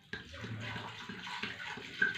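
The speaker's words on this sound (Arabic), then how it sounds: "دابا ندير له غير واحد القطيره ديال الماء ماشي بزاف" A small amount of water is poured into a tagine of baby meat with fries and prunes, giving a faint, brief splashing trickle with soft clatter and no talk.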